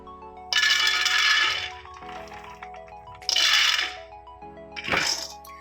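About a quarter kilo of peanuts rattle and clatter in a hot pan as they dry-roast, in three loud, scraping bursts separated by quieter stretches over a steady tonal hum.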